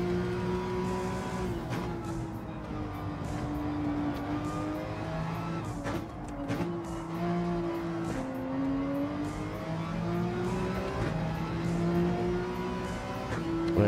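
Race cars accelerating in Gran Turismo 7, a loud continuous engine drone that rises and drops in pitch through gear changes, with several cars revving together close by and no talk.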